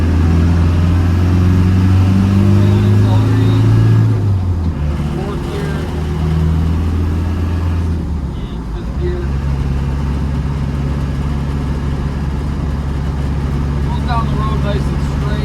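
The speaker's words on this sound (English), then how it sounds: "Downshift into third gear." A 1991 Land Rover Defender 90 with the 200Tdi diesel slows and downshifts into third gear. The engine drones steadily, its tone shifts midway, and it hums on inside the cabin.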